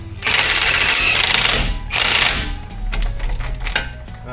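An impact wrench sinks a preloaded 35mm axle nut on a Ram 1500 during a front strut install, two loud rattling bursts followed by shorter, fainter hammering pulses.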